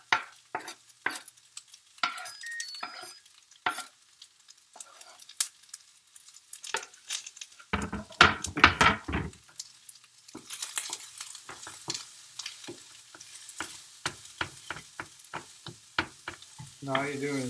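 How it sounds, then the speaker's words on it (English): Onions and garlic sizzle gently in a pan for pork and poblano tacos while a utensil scrapes and stirs in irregular taps and rustles, with quiet stretches between and a burst of busier frying midway. "go ahead and add the remaining onions in there"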